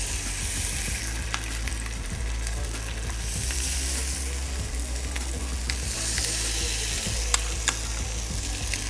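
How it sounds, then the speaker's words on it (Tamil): Pieces of fish shallow fry in oil with a continuous close crackle and fizz, broken by a few sharp clicks and taps of a utensil. "நம்ம வந்து டீப் ஃப்ரை பண்ண போகிறதில்ல, ஷாலோ ஃப்ரை தான் பண்ணுறோம்"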